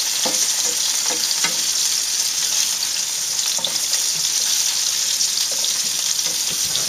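Garlic and pork tenderloin frying in a pan, a dense, bright, close sizzle that runs throughout with light clicks of stirring and no talking.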